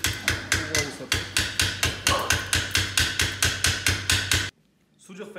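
Sharp metal pick strikes on a fresh weld on a 50cc Booster scooter, about twenty even, ringing hits in a steady fast rhythm, close and loud, then a brief silence followed by faint voices.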